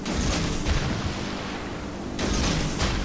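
Warship guns firing in the naval battle game World of Warships, heavy booming salvos with rumbling decay, one near the start and another after a pause, loud and close with no talk over them.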